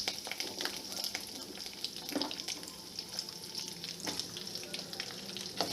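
Drumstick pieces frying in a pan with curry leaves for a drumstick curry, a soft continuous sizzle with a few faint stirring scrapes, quiet and close, with no speech.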